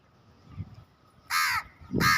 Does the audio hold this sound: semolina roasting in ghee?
no